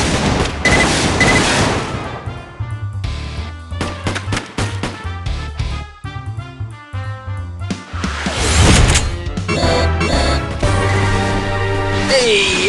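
Bazooka blasts and gunfire in the zombie horde-mode video game Age of Zombies, heavy loud explosive bursts and rapid shooting over game music, continuous and close.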